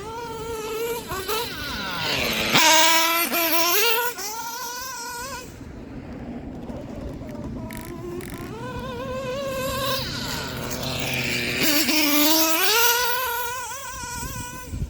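A Dragon nitro engine in a Traxxas RC car runs rich while warming up, its high buzzing whine rising and falling in pitch as the throttle is worked, close and steady for the whole stretch.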